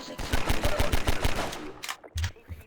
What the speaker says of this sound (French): qu'il y ait des gars qui me tirent dessus de là